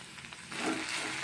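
Sliced okra fries in oil in a pan, giving a soft, steady sizzle that swells slightly partway through the brief moment, with no talking.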